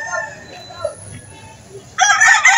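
Roosters crow repeatedly at a chicken market in Lipa, Batangas, loud and close, with clucking and market bustle around them; one bird gives a sharp, bright crow near the end.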